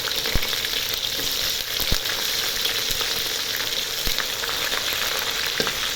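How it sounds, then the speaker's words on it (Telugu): Chopped onions frying in hot oil with dried red chillies, a loud continuous sizzle close up, broken by a few sharp taps of a spoon against the pan, with no voices. "ఇప్పుడు ముందుగా తరిగి పెట్టుకున్న ఉల్లిపాయ ముక్కలు వేసుకోవాలి."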